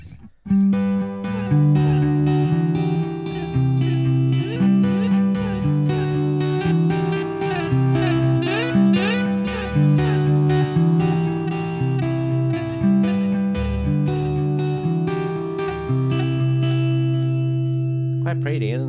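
An electric guitar plays a slow melodic phrase with delay, each note repeating and trailing off in echoes that blur into a shimmering wash.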